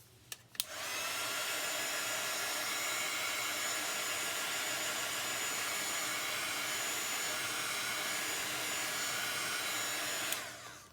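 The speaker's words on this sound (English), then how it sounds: "I'm just drying that so I don't mess it up" Hair dryer-style heat tool drying chalk paste after a silk screen transfer, starting with a click and running as a loud, steady, continuous blowing whoosh for about ten seconds before cutting off.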